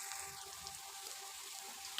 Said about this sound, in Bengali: তো আবারও সুন্দরভাবে ভেজে নেব পেঁয়াজটাকে